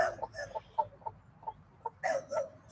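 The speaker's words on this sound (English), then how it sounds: "So, Jaxson, pretty big chicken." A Buff Orpington rooster clucks nearby in a series of short, soft, evenly spaced notes, with a louder burst of clucking toward the end.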